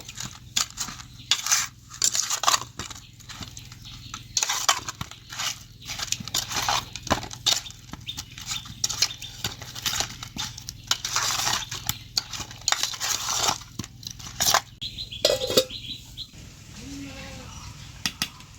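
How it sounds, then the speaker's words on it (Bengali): Spices worked into potatoes in a pot for aloo biryani, repeated clattering and scraping of a spoon against metal in irregular quick strokes, close up, with talk over parts of it. "এইবার মশলাগুলো আলুগুলোর সাথে খুব ভালো করে মেখে নেব।"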